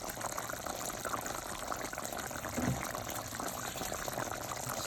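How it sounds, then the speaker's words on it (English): Water poured into a pot of Jamaican curry goat to finish cooking, a steady broadband wash of liquid running throughout with a brief louder gush near the middle. "I'm gonna add more water into it for it to finish cook"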